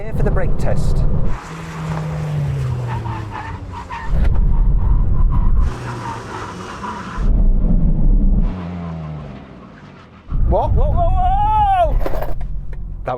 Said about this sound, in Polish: Albo zostań tu na test hamulców.